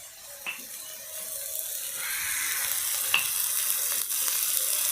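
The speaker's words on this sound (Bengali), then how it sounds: "দিয়ে মশলাটা ভালো করে আগে কষিয়ে নেব" Spice paste with salt and turmeric sautés in a pan with a continuous, close sizzle that swells slightly, marked by a few faint clicks of a spoon.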